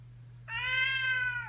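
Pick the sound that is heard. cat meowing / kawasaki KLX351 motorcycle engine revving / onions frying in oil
cat meowing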